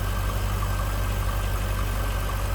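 The GM V8 of a 2003 Chevrolet Corvette convertible idles smoothly, a steady low rumble with an even pulse heard close and alone.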